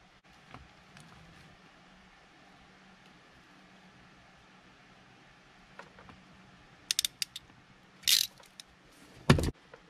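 Ratchet crimping tool clamping a wire terminal during an ECM wiring install on a Mitsubishi Galant VR4, heard as a few sharp ratcheting clicks and bursts near the end of an otherwise quiet stretch.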